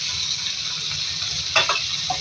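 Tomatoes being spread over onions frying until nearly charred in a home kitchen pan, giving a steady, close hiss of sizzling oil with a few scraping stirs near the end.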